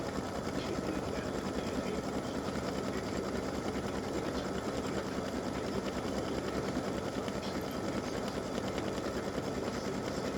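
A machine embroidery unit runs a test stitch on a patriotic appliqué design, giving a continuous, even, rapid mechanical whir that holds at a steady level with no pauses.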